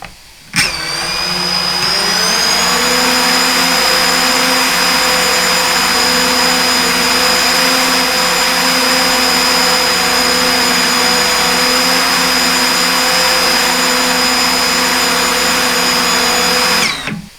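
A DJI FPV drone's motors and propellers spin up sharply, hold a loud, steady, whining drone with a sustained high tone for about sixteen seconds, then cut off abruptly.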